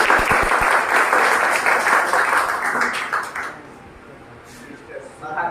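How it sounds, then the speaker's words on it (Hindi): Applause for the winner of a typing test competition, a crowd clapping steadily for about three seconds before it fades out, with voices talking faintly as it dies away. "चलिए उनके लिए एक जोरदार ताली हो"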